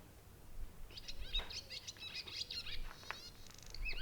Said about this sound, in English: The swallow calls out.